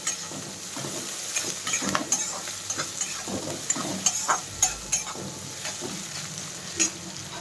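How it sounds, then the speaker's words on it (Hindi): Onions sizzle and fry in a pan for suji upma while a spatula stirs and scrapes in irregular bursts, with occasional light clinks, close and steady. "अभी प्याज डाल के मैं उसको थोड़ा सा चला लेंगे।"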